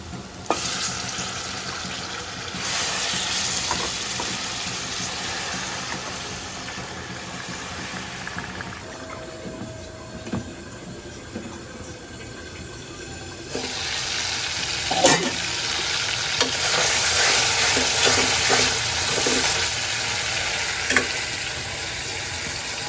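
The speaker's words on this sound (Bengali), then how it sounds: "মাছটা ছোট করে কুটে নিলাম ভুনা করবো" Small pieces of cut fish frying bhuna style in a pan, with a steady loud sizzle broken by occasional stirring and clatter, rising and falling in intensity.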